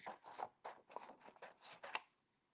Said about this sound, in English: So I'm going to cut my cardstock.